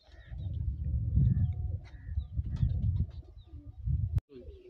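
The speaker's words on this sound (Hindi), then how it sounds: "ऐ जनाब माशाल्लाह नायाब कबूतर है" A prized racing pigeon coos close by, giving soft, low, throaty repeated coos in a steady rhythm, quiet against a still background with one sharp click near the end.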